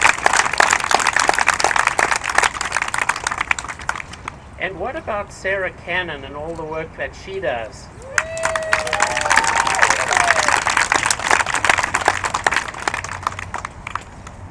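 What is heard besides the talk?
audience applause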